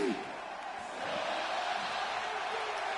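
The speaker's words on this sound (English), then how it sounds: "Oh, the crowd loving it." A virtual arena crowd at WrestleMania roars in a wrestling video game, a broad steady wash of cheering that swells slightly after a moment and holds throughout, with a brief voice at the start.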